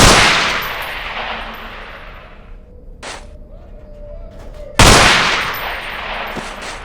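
Gunshots from a weapon in the Half-Life 2 Underhell mod: a loud close blast with a long echoing tail, a short sharp crack partway through, then another heavy shot ringing out.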